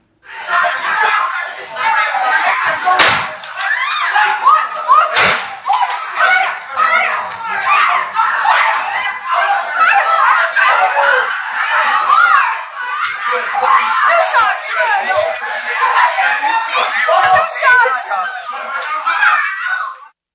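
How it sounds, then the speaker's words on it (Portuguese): A dense crowd of voices shouts and screams continuously, with a couple of sharp cracks like gunshots cutting through the commotion. "é possível ouvir gritos e tiros"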